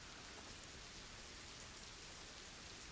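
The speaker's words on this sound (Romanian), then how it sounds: "Cum se aude ploaia" Rain pouring down in the video game A Plague Tale: Innocence, a dense, even hiss of falling drops that holds steady throughout, fairly faint and with no voices.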